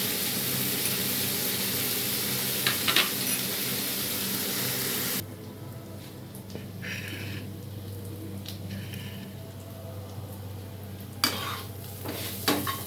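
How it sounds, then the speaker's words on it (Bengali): Potatoes fry in a pan with chilli, salt, turmeric and cumin powder for a beetroot curry, giving a steady sizzle that drops to a softer crackle midway, with a few scraping stirs near the end. "আলুটা ভাজা ভাজা হয়ে গেছে।"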